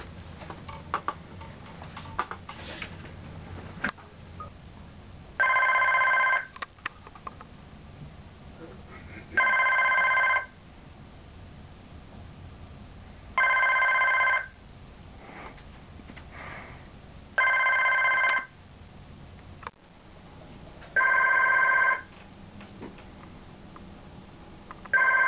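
A telephone rings in six separate loud bursts spaced a few seconds apart, with quiet ticking and faint rustling between the rings.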